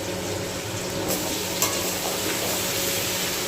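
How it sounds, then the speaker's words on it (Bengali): Potatoes and pumpkin frying in leftover fish oil in a pan make a dense, continuous sizzle with occasional scraping stirs, close and fairly loud throughout. "তো সবজিগুলোকে ভেজে নেবো"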